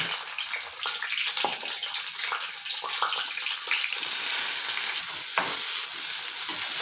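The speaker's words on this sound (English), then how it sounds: "squeeze a little like this and then put it in the oil" Squeezed bitter gourd fries in hot oil for a Konkani salad, a continuous crackling sizzle with intermittent stirring scrapes, fairly close and steady throughout.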